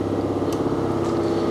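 An air compressor runs steadily inside a garage, a constant mechanical hum with a strong low drone throughout and a brief hiss near the start.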